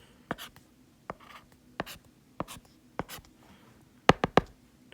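Chalk or marker strikes a board during a math lecture on college algebra, a series of sharp taps and short scratching strokes spaced irregularly, with a quick burst of several strokes near the end.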